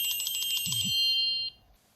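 An electronic phone ring trills in rapid pulses for about a second and a half, then cuts off, leaving quiet room tone.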